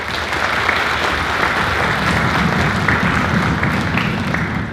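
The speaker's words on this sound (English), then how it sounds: "each of you deserve a round of applause for supporting our program" A school concert audience claps in a full, steady round of applause that holds at an even level throughout, with no talking.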